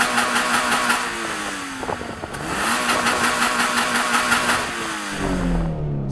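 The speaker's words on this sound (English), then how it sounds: "I'm going to rev up this car and see if it sounds better than that Supra." A Toyota GR86 engine is revved several times in quick succession, loud and close, with the pitch rising and falling between blips before it settles back to idle.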